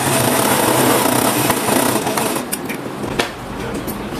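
A sewing machine stitches together the back seams of a pair of women's tailored shorts. Its steady mechanical run goes on for about two and a half seconds, then breaks into a few short bursts and pauses. There is no talk.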